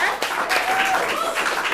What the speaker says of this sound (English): Give yourselves a round of applause for just getting out here.